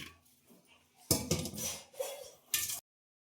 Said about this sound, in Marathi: पातेले ठेवले, पातेल्यात जेवढं चीक आहे ना तेवढंच मी पाणी आपण हे टाकलेलं आहे उकळायला.